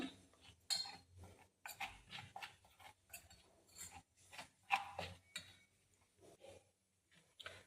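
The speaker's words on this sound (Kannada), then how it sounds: "ಇವಾಗ ಇದನ್ನೆಲ್ಲ ಮಿಕ್ಸ್ ಮಾಡ್ಕೊತಾ ಇದ್ದೀನಿ ನಾನು" Spices with coriander powder are stirred in a pan, making soft, close scrapes and light metallic clinks in an uneven rhythm at low volume with no talk.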